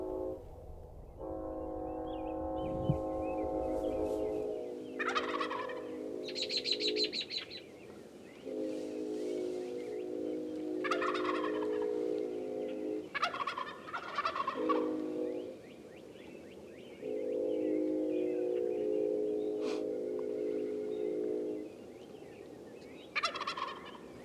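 Wild turkeys gobble in short bursts over a long, loud train horn blast at a Nebraska hunting spot, the gobbles repeating several times, some near and some farther off.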